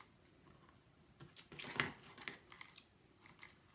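A few quick snips of scissors cutting paper, close and crisp, with light rustling between the cuts.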